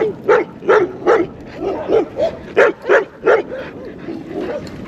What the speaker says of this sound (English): these dogs are so happy to see us.